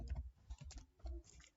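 A computer keyboard clatters with quick, uneven keystrokes while a command is typed at a Linux terminal, close and fairly quiet with no talk.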